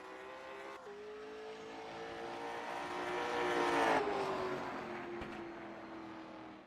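Late model race car on track at Kern Raceway in iRacing, engine droning steadily and swelling louder toward the middle, then easing back as the car carries on around the circuit.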